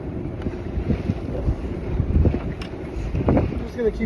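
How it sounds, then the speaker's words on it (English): Strong wind buffets a small fishing boat trolling on a Utah lake, a low rumbling gusty roar against the microphone with faint water slaps and occasional knocks from the boat. "this wind is ridiculous"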